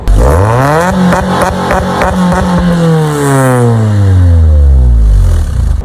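An Acura RSX engine revs hard several times, then holds and sweeps up and down in pitch, with a loud, raspy exhaust roar throughout.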